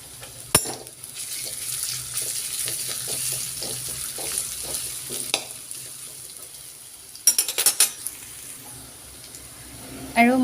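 Ginger paste goes into a pan of chana dal on the stove, making a steady soft sizzle with scraping and stirring, a sharp clatter near the start and a cluster of utensil knocks toward the end.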